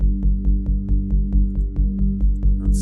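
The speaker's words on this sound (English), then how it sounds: "the main menu music" Main menu music from a wave-based video game: a loud, steady electronic drone pulsing with a regular ticking beat, playing alone without voices.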